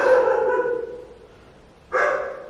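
A dog outside a reputedly haunted house in Uttarakhand gives two drawn-out howling barks separated by a pause, moderately distant and fairly loud, with no talk over them.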